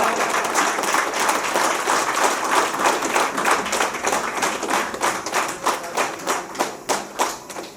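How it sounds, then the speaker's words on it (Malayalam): Applause from an audience at a Kairali agricultural multistate cooperative society north zone gathering, steady dense clapping through the whole span that thins into separate louder claps near the end. "അദ്ദേഹത്തിന് നമുക്കൊരു ബിഗ് ക്ലാപ്പ് കൊടുക്കാം"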